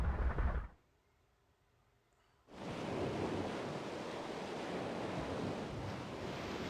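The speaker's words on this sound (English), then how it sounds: "Our boat's getting thrashed about by these waves." Ocean waves in Breath of Fire III thrash against a boat, a loud, steady roar of surf and wind that starts after a brief quiet gap and keeps churning without pause.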